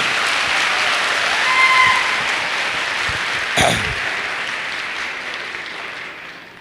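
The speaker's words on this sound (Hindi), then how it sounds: "तो आपका जुनून एक बार जोरदार तालियों से देखना जरूर चाहूंगा आपके लिए" Loud, sustained applause from an audience at a business training session, steady dense clapping throughout with a brief louder swell near the middle and no speech.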